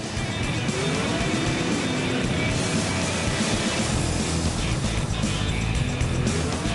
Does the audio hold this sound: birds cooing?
no